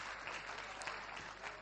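Audience at a Punjab mushaira in Patiala applauding a poet's couplet, a dense steady wash of many hands clapping, fairly close and sustained throughout.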